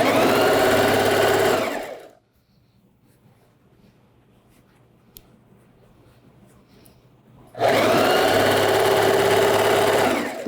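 Sewing machine stitching part of a trouser waistband: two loud, close bursts of steady mechanical whirring, about two seconds and three seconds long, separated by a stretch of near-silence with a faint hum.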